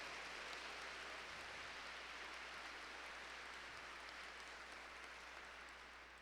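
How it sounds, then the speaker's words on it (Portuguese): A church congregation claps during a Catholic sermon, a faint, distant wash of steady applause that fades slightly toward the end. "Pode aplaudir, em nome de Jesus."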